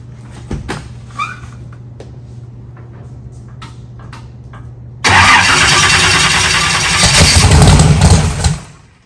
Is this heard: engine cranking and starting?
yes